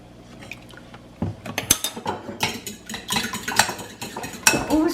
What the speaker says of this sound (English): And whisk it up with 1 tablespoon of milk.